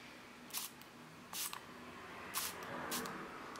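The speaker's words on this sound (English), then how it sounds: "I'm using my MAC fixing spray and I'm spraying" MAC fixing spray from a small pump bottle being spritzed onto a made-up face, four short quiet mist bursts spaced apart against faint room noise.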